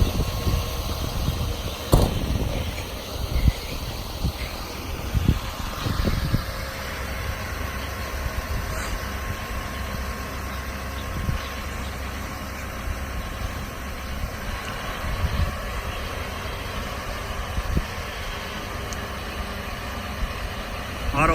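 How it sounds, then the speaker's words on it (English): A 2008 Chevrolet 4500 bucket truck idles steadily with its PTO engaged, a low continuous engine rumble with a few scattered knocks and clunks near the start, heard from close by. "So I'm gonna have Chris go ahead and engage the PTO"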